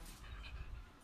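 A dog that has just given birth whimpers and pants close by, quiet short breathy sounds with a faint whine over about a second.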